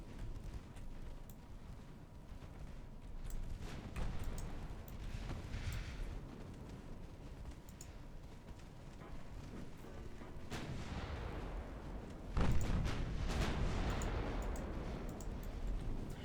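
Naval gunfire from a battleship's 5-inch secondary batteries in the video game Ultimate Admiral Dreadnoughts, a continuous rumbling barrage of distant booms with a heavier, louder blast near the end.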